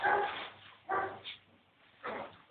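A dog barks three times close by, loud separate woofs spaced about a second apart with a short yip between them and no talk over them.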